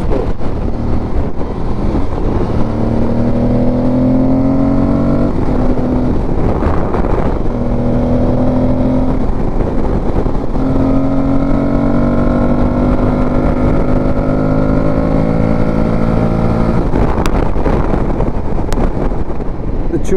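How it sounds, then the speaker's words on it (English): Twin-cylinder engine of a 2022 Aprilia Tuareg 660 motorcycle on a ride, droning loud and close with rising revs through several gear changes, short dips between pulls, under steady wind buffeting. "Tuareg engine is a twin cylinder."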